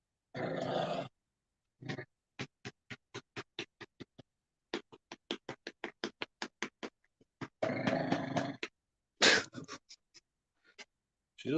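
A pet dog snorts and grunts in quick rhythmic bursts, a run of short sharp puffs broken by a few longer rough grunting spells, close and fairly quiet.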